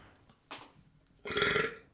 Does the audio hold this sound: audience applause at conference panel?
no